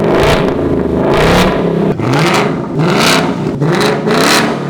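A brand new 2024 Ford Mustang GT with straight-pipe or H-pipe exhaust revs hard several times in a row, each blip climbing and falling in pitch with a loud, raspy burble close by.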